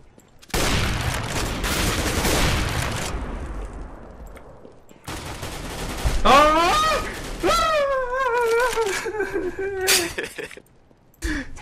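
Dual pistols fire in the video game CS:GO as rapid bursts of light popping shots, mixed with other gunfire and in-game effects while players talk over the action.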